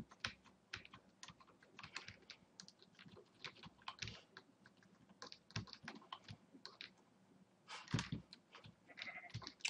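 Sheep bleat faintly in a survival video game, mixed with busy, rapid computer keyboard clicking throughout, all quiet and close.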